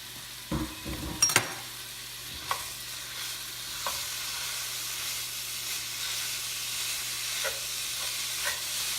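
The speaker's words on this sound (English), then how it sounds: "I'm going to go ahead and add the ground beef." Ground beef hits a hot pan and sizzles into a steady bright hiss, with a few clunks and stirring scrapes at the start.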